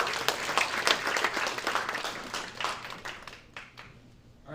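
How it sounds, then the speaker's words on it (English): A round of applause from an audience at a tech demo night, dense clapping that fills the room and then thins out and fades toward the end. "All right, round of applause."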